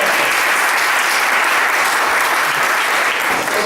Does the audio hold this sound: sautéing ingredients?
no